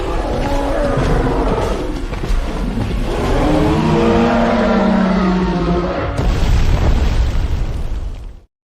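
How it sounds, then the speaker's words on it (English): Dust explosion effect in an AI-generated animated scene, a loud sustained roaring rumble with low booming body that swells and surges near the end before cutting off abruptly. "I don't know if I really like the explosion effect of the dust at the end"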